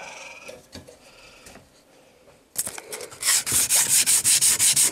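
A bone guitar nut for a Strat build is rubbed against abrasive, first in quiet, scattered scrapes, then in a loud, rapid run of rhythmic sanding strokes close by, about eight to ten in quick succession.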